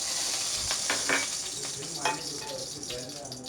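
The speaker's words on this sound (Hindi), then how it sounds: "अब हमने इसको मीट बॉल को फ्राई करना है।" Chicken meatballs fry in oil with a close, crackling sizzle, broken by a few clinks of a utensil against the pan and light stirring noises.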